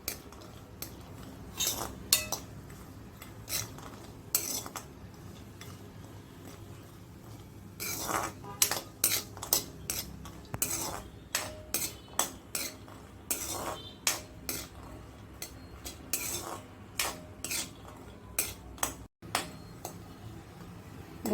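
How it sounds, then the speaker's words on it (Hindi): Dry fruits stirred in warm ghee in a pan over low heat: a metal spoon scrapes and clinks against the pan in irregular bursts over a soft, faint background, with no talk. "घी हल्का सा गर्म होते ही, और लगातार चलाते हुए इसको गोल्डन ब्राउन कर लें।"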